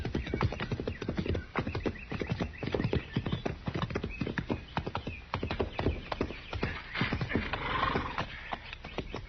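Several horses ridden at a steady pace on open ground outside a fort, hooves clip-clopping in a continuous rhythmic patter with an occasional whinny, close and prominent throughout.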